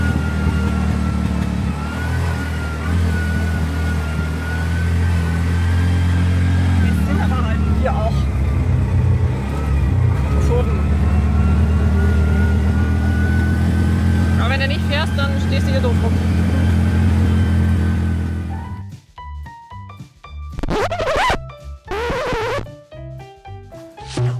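A car engine holds a steady low drone while descending a steep road in first gear toward Ambuluwawa Tower in Sri Lanka. A person talks over it, then the engine drops away into quieter, choppier sounds near the end.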